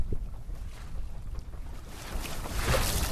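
Sailboat under way at night, with steady wind and water wash rushing continuously around the hull, growing slightly louder toward the end, with no voices.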